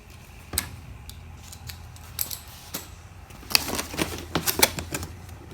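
Cutters snip through a zip tie while an RC car is unboxed, a series of small sharp clicks and plastic snaps, clustered more densely toward the end, close and fairly quiet.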